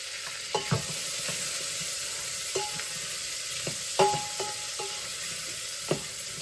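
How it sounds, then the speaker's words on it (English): Peppers tumbling into a pot of beef rib and black bean chili, with several distinct stirring scrapes and clacks over a steady sizzling hiss. "I'll just go ahead and add all the peppers"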